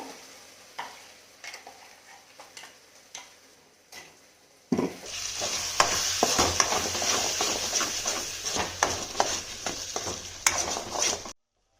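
Ground masala stirred into fried onion and tomato in a pan, a quiet start of light scrapes giving way to a loud, steady sizzle with repeated stirring strokes and spoon knocks close by.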